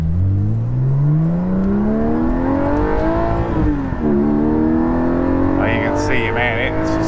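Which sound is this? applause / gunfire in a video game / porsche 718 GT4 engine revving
porsche 718 GT4 engine revving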